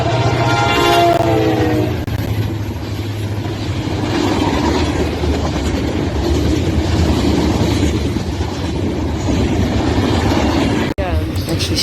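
A CSX freight train, Q363, led by an SD50-3 locomotive with a trailing unit, passes close with a loud horn blast at the start, then a continuous heavy rumble and clatter of rolling cars.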